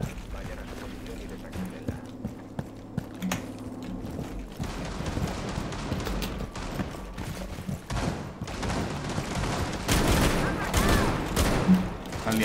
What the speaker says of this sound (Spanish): Están liando a tiros, ¿no?